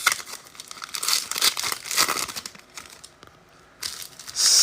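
NFL trading card packs being ripped open, loud close crinkling and tearing of foil wrappers in repeated bursts, a brief lull, then a sharp final rip.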